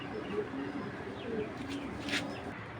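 A pair of pigeons coo in low, throaty warbles, soft and continuous against a noisy indoor background, with a brief sharper chirp near the end.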